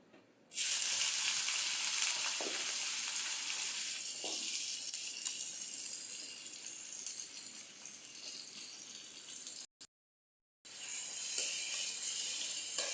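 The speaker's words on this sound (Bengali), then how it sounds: "এখানে আমি দিয়ে দিয়েছি কড়াইতে তেল। এখন আমি দিয়ে দিব পেঁয়াজ কুচি।" Chopped onion drops into hot oil in a wok and bursts into a loud, bright sizzle that holds steady. The sizzle cuts out once briefly and then resumes close up, with no one talking.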